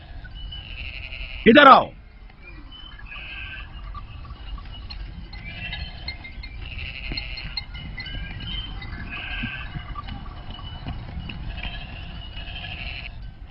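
Sheep in a field, one loud close bleat early on, then quieter bleats and animal sounds scattered in the background while someone speaks briefly.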